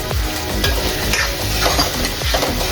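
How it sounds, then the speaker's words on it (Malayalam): Fish pieces fry in hot oil for pickle, a loud close sizzle with scraping stirring strokes and clinks of a utensil against the pan. "അപ്പോൾ എണ്ണ എങ്ങനെ ചൂടായിരുന്നു ഒന്ന് മീനിട്ട് കൊടുക്കാം"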